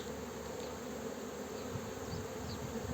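Honeybees at an opened hive in Muğla drone in a steady, dense buzz that fills the whole stretch without pause, close and even in level.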